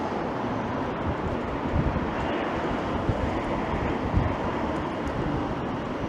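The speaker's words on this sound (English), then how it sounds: "it's very, very windy and very bad" Strong wind buffets the microphone in a steady, roaring rumble with gusty bursts throughout, loud and close, with no voices.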